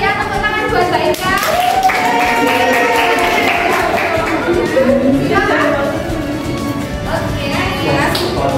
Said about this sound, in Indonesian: tepuk tangan buat Mbak Ika